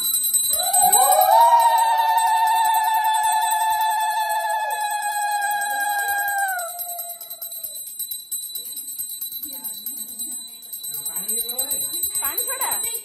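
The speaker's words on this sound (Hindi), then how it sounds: "घंटी दे ना घंटी बजा" A bell rings during a Ganesh aarti, with several bright, sustained strikes whose tones ring on and then fade, followed by softer clinks and movement noise, while voices murmur in the background.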